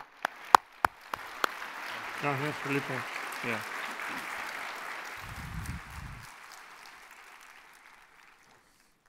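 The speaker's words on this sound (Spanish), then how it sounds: "le recibamos con un fuerte aplauso y caluroso de bienvenida" Warm welcoming applause from a congress audience fills the hall, a dense wash of many hands that rises, holds and slowly fades out, with a few sharp near claps early on and a voice speaking briefly over it.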